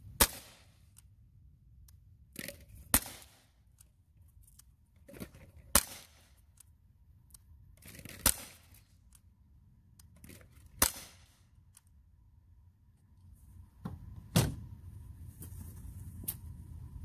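Gamo P25 air pistol firing pellets in a velocity test outdoors: about seven sharp, isolated cracks spaced several seconds apart, each with a short tail, over quiet background.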